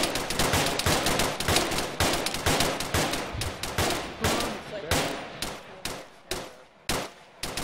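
Rapid airsoft gunfire crackles through a milsim game, bursts of sharp shots coming in quick succession at first, then spacing out into separated single shots and short volleys, loud and close.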